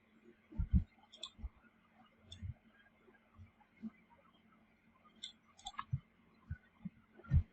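Keyboard keys and a mouse click sporadically at a computer during Blender 3D modeling work, a scattered series of soft, close taps with uneven gaps.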